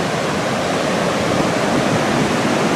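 Adirondacks waterfall, New York, heard from a viewing platform as a steady, loud broadband rush of falling water, continuous and close, with no voices.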